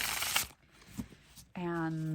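A tarot card deck is shuffled close up: a quick riffle burst at the start, then quiet handling, before a voice begins speaking over it.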